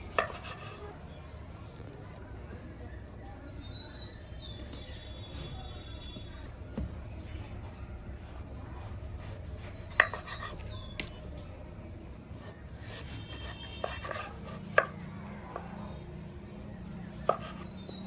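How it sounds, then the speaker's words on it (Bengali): An ash gourd is chopped into small pieces for a stuffed gourd dish, with a knife striking the board in scattered, uneven sharp knocks over a low background hum and occasional clatter. "এখন আমি কুমড়াটাকে ছোট ছোট করে কেটে নিব।"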